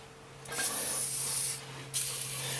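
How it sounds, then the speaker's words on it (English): Penetrating oil sprayed from an aerosol can onto the upper ball joint of an EK-series Honda Civic during CV axle replacement: two close, steady hissing bursts, the first about a second long, the second starting after a brief pause. "we're going to spray some penetrating oil here on the upper ball joint"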